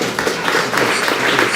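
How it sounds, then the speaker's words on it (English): Applause from an audience at an annual general meeting, a brief burst of steady clapping filling the room. "I think a round of applause"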